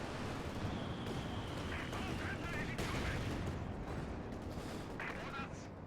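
Katyusha rocket artillery fire in a 4v4 tournament video game makes a dense, continuous rumbling barrage of blasts under a commentator's voice.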